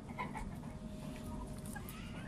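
Soft, scattered clucking from a few fancy hens, including Golden Buff and white bantams, nearby over a low background murmur of barnyard noise.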